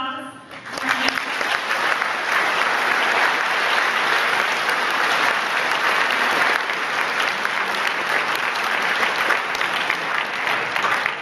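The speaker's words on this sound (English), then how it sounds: "So a big round of applause for our next" Loud, dense applause from a student briefing audience at a rocketry contest event fills the whole stretch, steady and sustained throughout, with a brief voice at the very start before the clapping takes over.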